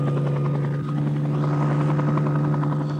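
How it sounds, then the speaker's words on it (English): Army helicopters flying a display at a ceremony in Mauritius in 1968, with a steady, loud, close rotor drone and engine whine that holds unbroken throughout. "the choppers have now come down, and they're going to start their little display"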